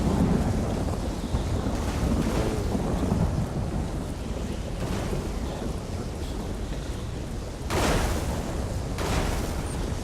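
Thunderstorm in an Elder Scrolls game at Southpoint: steady roaring rain and wind with low rumbling thunder building throughout, and a sharper crack of thunder near the end, loud and continuous with no talking.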